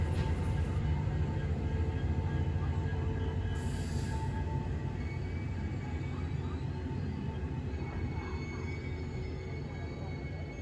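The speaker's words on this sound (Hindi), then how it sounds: "फाइनली ट्रेन का अराइवल हो रहा है श्रीगंगानगर जंक्शन पर" The Amritsar Bikaner Weekly Express, train 14720, arriving at Sri Ganganagar Junction, a loud continuous rumble of wheels and carriages rolling close by, with faint high squeals near the start and no clear talk.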